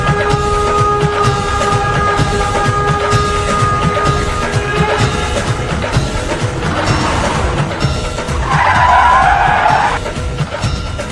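A vehicle rolls with a steady rumble and clatter, then brakes to a stop with a loud, squealing screech near the end, close by and without talk.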